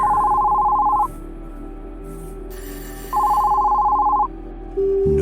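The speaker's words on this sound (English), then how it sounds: "a phone booth ringing in the middle of nowhere" A telephone in a phone booth in the middle of nowhere rings in two long electronic bursts separated by a pause, loud and close, with a brief tone starting again at the end.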